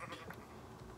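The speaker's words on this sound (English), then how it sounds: "Oh, there's sheep." A sheep bleating in Minecraft, a short wavering cry over a brief, faint stretch of game audio.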